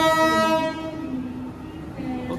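KA Java Priority train departing Kroya station: a loud, sustained horn blast rings out first, then fades into a low rumble of the moving train with a brief tonal note returning near the end.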